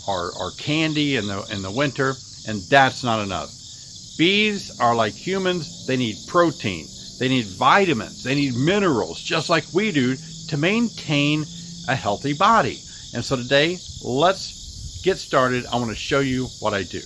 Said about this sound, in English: The noise you hear in the background is probably crickets.